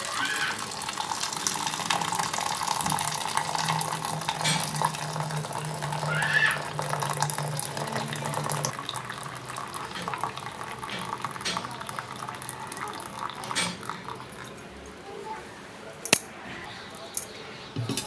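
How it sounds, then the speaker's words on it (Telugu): Rice starch water drained from freshly cooked rice pours steadily into a bowl, a continuous close watery splashing and trickling that runs for most of the stretch before tapering off, ending in a couple of sharp clinks. "ఈ గిన్నెలోకి అన్నంలోని గెంజి అంతా కూడా తీసుకుందాం"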